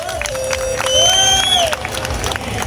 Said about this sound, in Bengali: হাততালি একবার